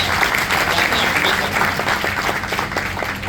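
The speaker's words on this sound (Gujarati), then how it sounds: "તમારી જાત માટે જ તમારે તાળી પાડવાની છે" Audience applause at a public gathering on police discipline, a steady dense wash of many hands clapping close by, running the whole stretch without voices on top.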